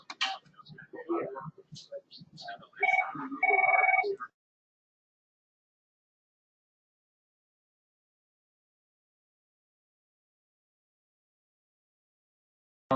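A telephone rings in a loud, steady electronic tone for about a second or two, right after and partly under a person's talking, before the sound cuts to silence.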